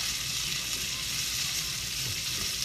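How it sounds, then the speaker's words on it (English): Onions frying in a pan until golden, a steady, close crackling sizzle that holds at an even level throughout. "Meanwhile, back to our onions. Starting to get a little bit golden."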